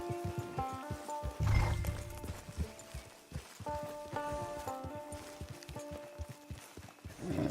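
A horse in the game Red Dead Online, arriving at a camp, with hooves clip-clopping in an uneven rhythm over a background of music and ambience; a louder low snort or thump stands out near the middle.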